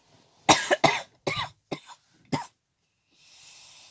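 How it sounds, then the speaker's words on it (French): A person coughs in a burst of about five harsh, separate coughs, close and loud, followed by quiet and a soft breathy exhale at the end. "J'essaie au maximum de m'empêcher de tousser parce que ça me fait mal de tousser."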